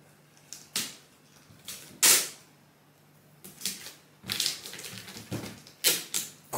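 Sticky packing tape being pulled off the roll and pressed onto cardboard boxes while packing up an apartment, several sharp rasping rips and crackles in uneven bursts, close and fairly loud with no talk.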